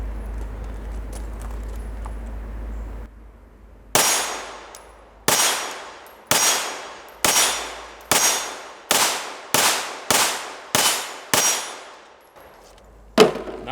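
A PSA Dagger pistol's magazine with a ZevTech extension drops repeatedly onto a hard surface, producing about ten sharp metallic clacks at fairly regular intervals, each ringing briefly, with a low hum beforehand.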